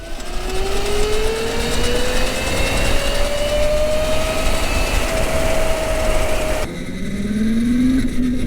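An electric cafe racer motorcycle motor whines loudly at full throttle, its pitch rising slowly and steadily for several seconds, then cuts out abruptly before a fresh whine starts climbing again, with no talk over it.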